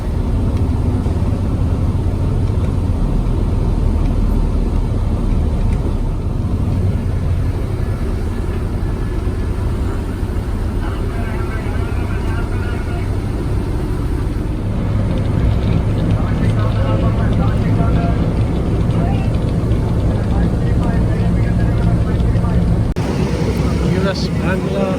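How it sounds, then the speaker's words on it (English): Steady low engine drone inside the cabin of a US Bangla Dash-8 turboprop on a domestic flight out of Dhaka, continuous and fairly loud, with a person speaking over it. "It's a Dash-8 aircraft."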